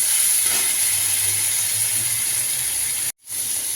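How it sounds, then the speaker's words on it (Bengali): Shrimp sizzling in a hot pan with cumin and bay leaf, a steady bright frying hiss that runs continuously, cutting out for an instant before resuming. "চিংড়ি মাছটা ভেজে নেবো একটু"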